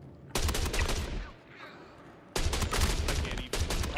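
Automatic gunfire in the video game Star Citizen, with two long rapid bursts separated by a short lull of fainter rumbling, loud and close.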